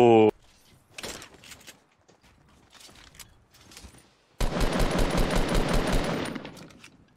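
Rapid automatic gunfire in the video game Fortnite bursts in loudly for the last few seconds, a dense sustained rattle following quieter scattered sounds and brief chatter from players.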